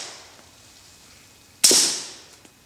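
A single suppressed shot of 9mm Lawman ammunition fired through an Octane suppressor gives a sharp, loud crack followed by a brief decaying tail, standing alone after quiet.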